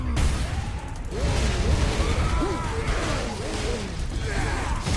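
A giant cannon fires in the Warhammer 40,000 Space Marine video game: loud, dense booming blasts and crashing impacts roll on continuously through a thick, noisy battle din.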